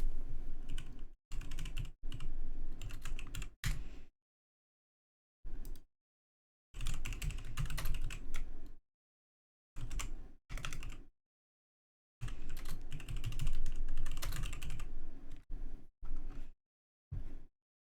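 Rapid clattering keystrokes on a computer keyboard come in several bursts of a few seconds each, separated by silent pauses, close and fairly loud with no voices.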